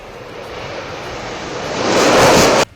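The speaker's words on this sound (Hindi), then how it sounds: "इस डेमो में सुखोई 57 ने सिर्फ 10 सेकंड में उड़ान भरी" A Sukhoi Su-57 fighter jet takes off at the Aero India 2025 air show, a loud broadband engine roar that builds to a peak and then cuts off abruptly.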